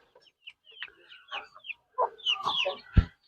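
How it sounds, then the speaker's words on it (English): Native chickens being prepared for a pullet pen on a Philippine farm give close, irregular clucks and short squawks, ending in one sharper, louder call, with no clear talking. "This is a native chicken."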